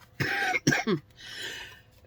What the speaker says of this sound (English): If I laugh, I cough.